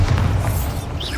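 A Bombarda blasting spell going off in Hogwarts Legacy, a loud, steady low rumbling boom with a bright whooshing sweep near its end, no talking over it.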